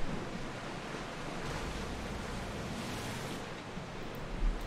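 Ocean waves wash steadily around a sailing ship at sea in the video game Assassin's Creed Odyssey, a broad continuous rush of surf and wind with no voices.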